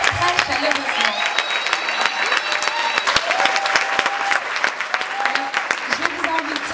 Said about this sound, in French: scientifiques Gia Abrassard et Sarah Demar, que je demande qu'on applaudisse vraiment très très chaleureusement